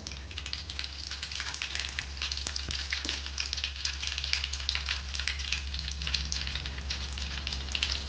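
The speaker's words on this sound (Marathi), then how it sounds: "मोहरी छान फुडल्यानंतर एक चमचा जिरे घालायचे आहे" Mustard seeds splutter and crackle in hot oil for a Pandharpur-style bazaar amti, a dense, steady sizzle with sharp pops throughout and a low hum beneath.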